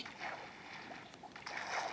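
A small boat glides across water in Minecraft, giving a steady, soft rushing swish with gentle wind-like noise that swells louder toward the end, heard fairly quietly and without talk.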